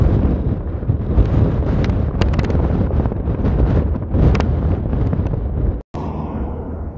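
Strong wind hits the microphone on a gravel road in gusting, roaring buffets with sharp bursts and brief dropouts. The rumble is loud and steady, and nobody speaks.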